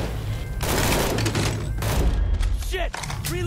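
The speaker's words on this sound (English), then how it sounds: "Oh, another rocket." A rocket explodes in the Mafia 3 video game amid heavy gunfire, loud booming blasts and rapid shots layered with voices talking over the action.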